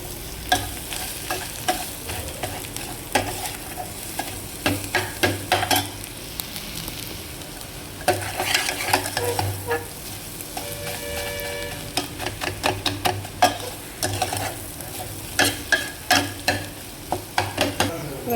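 Frying in a pan with repeated stirring while making an egg-free uppuru, a continuous sizzle overlaid by rhythmic scraping and clinking strokes of a spoon against the pan, close with no talk.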